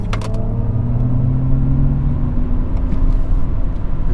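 A 2022 Mercedes EQS 580 electric car accelerating hard, its steady drivetrain whir and road rumble filling the cabin, with a faint rising tonal hum over a constant loud roar.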